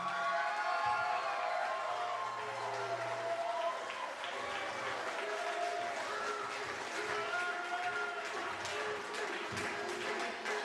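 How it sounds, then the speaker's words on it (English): Audience applause at a 3XW professional wrestling event, a steady wash of clapping and crowd noise that holds across the whole stretch with some talk mixed in. "So let's give Jimmy Rockwell a well-deserved round of applause."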